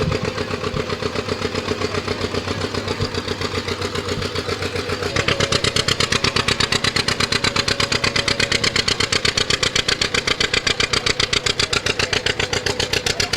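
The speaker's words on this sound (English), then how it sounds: "Get the tractor loaded down now, and it's performing at its rated horsepower." A diesel two-cylinder tractor engine pulls hard under load on a dynamometer at its rated horsepower, a steady loud rapid chugging beat that grows louder and harsher about five seconds in and holds there.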